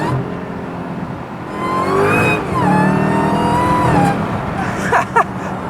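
Supercharged V8 in a Dodge Charger Jailbreak accelerates hard, its engine note and supercharger whine climbing steeply through a gear before settling, loud and close from inside the moving car.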